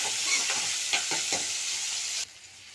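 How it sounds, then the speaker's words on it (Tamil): Onions sautéing in a hot pan for crab masala, a steady bright sizzle with a few scraping stirs, close and alone, cutting off abruptly near the end. "இப்போ இந்த வெங்காயம் வந்து நல்லா வதங்கட்டும்."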